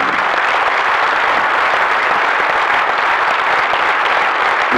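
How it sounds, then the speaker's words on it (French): An audience at a film screening applauds loudly for the director, a thick, continuous round of clapping lasting several seconds. "je vous demande d'applaudir très fort Emmanuel Mouret"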